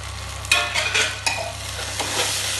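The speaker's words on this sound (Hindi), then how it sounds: "अब इसको धीमी आंच पे थोड़ी हम लोग भूनेंगे सारे मसालों को" Onion, tomato and spices fry in a pan for cabbage sabzi, a steady sizzle broken by a few scraping stirs of a spoon, close and without speech.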